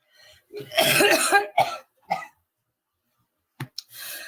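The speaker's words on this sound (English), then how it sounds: "now that it is a dry cough, I'm a lot more comfortable." A person coughs dry and hard: one long harsh burst, then two shorter coughs, a pause, and a few faint throaty clicks and a breath.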